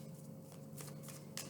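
Oracle cards are shuffled by hand in a continuous soft papery riffle close up, with a brighter flurry near the end and no talking.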